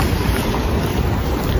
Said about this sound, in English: It's windy right in our faces.